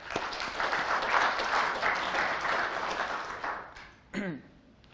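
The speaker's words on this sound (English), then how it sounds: "I just want you guys to give yourselves a round of applause for such an established and involved group" Sustained applause from an audience at a talk on myths, cults and the supernatural, dense and steady for about four seconds before thinning out, with a brief voice near the end.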